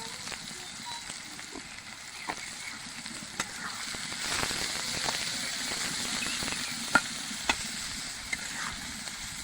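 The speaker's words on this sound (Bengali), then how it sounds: "এবার আমরা এই পেঁয়াজটা ভেজে নিব।" Onions seasoned with salt and turmeric fry in a pan, giving a steady close sizzle with scattered clicks of stirring; a voice speaks over it at times.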